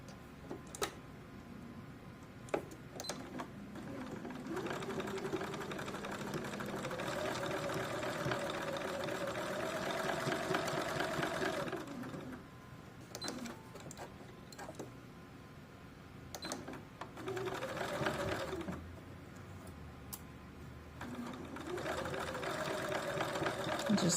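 A sewing machine stitches along the folded waistband edge of a small 11.5-inch doll skirt in several runs. Each stretch of steady whirring stitches stops and starts, separated by brief pauses with clicks.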